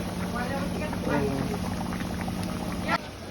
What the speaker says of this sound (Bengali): কাতলা মাছগুলো দেখো ভাই কিন্তু ফুটে উঠেছে। দেখো ঝোলটা।